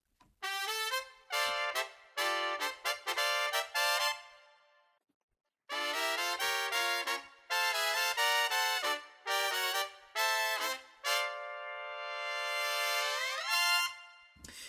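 A brass section of trumpets and trombones plays a festive Christmas Broadway-style arrangement, spread across the stereo field. Short punchy stabs come first, then a brief pause, then more stabs that lead into a long sustained chord. No voices.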